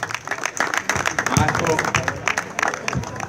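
Audience applause for the president of the CSI at a youth tournament in Montecassiano, a burst of crowd clapping mixed with loud talk from a speaker over a microphone.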